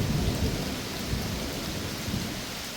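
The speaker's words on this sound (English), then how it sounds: "this is the storm, the big portion of the storm, I believe, that we have been waiting for all day" A thunderstorm roars with heavy, steady rain and low rumbling thunder rolling throughout, loud and enveloping with no voices.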